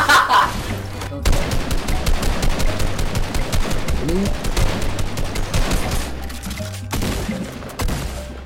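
Rapid automatic gunfire from a weapon in Fortnite rattles in dense, loud bursts with brief pauses, running nearly continuously and close up.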